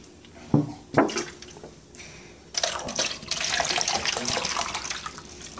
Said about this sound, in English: I'm about to fill up my water again because I drank it all.